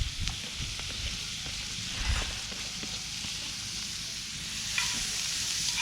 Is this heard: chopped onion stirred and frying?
yes